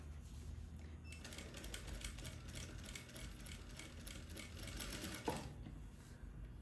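A straight-stitch sewing machine runs steadily through a 1 cm dress seam on fabric with shirring elastic, a continuous close mechanical whir with rapid needle chatter lasting throughout, with no talk.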